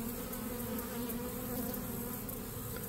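Honeybees buzz inside a beehive holding two queens, a dense, continuous close-up drone with no pauses and no voices.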